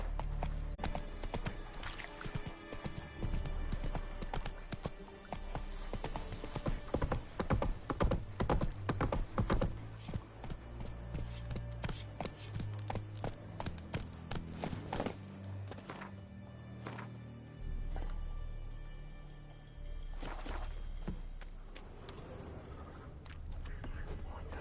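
Roach, Geralt's horse in The Witcher 3 video game, trots with steady rhythmic hoof clip-clops alongside background music and occasional thunks, with game voices talking over parts of it.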